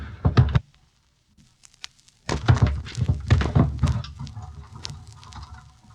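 A dumbwaiter worked by ropes creaks and thunks in its shaft in a radio drama, two bursts of clattering knocks and rattles with a brief quiet gap between, close and fairly loud.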